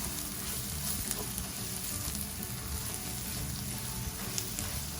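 Onions and spices sauteing in a pan give a steady, close, busy sizzle and crackle, with faint stirring underneath and no talk, holding evenly throughout.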